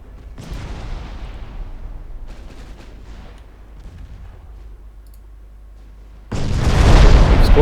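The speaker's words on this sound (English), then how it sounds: "We've scored one torpedo hit on something" Torpedo hit on a warship in Ultimate Admiral Dreadnoughts, heard as a sudden loud, broad explosive roar bursting in near the end after a stretch of quieter naval battle rumble and faint distant booms.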